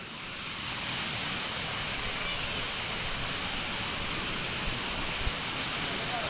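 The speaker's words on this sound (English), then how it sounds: "I love waterfall caves." A waterfall pours inside a cave at Volcano Bay water park, a dense, steady roar of rushing water close by that fills the whole stretch without a break.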